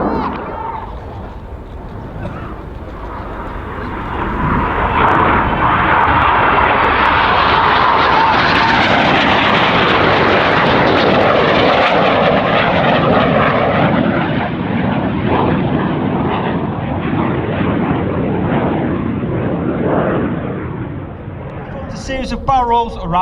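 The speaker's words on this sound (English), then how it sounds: "Series of barrel rolls around the rest of the formation, leaving the infinity symbol in the sky for the infinity break" Red Arrows jets performing barrel rolls in formation during an air display at the Royal International Air Tattoo, a loud jet roar swelling and fading over about twenty seconds, heard under a commentator's voice.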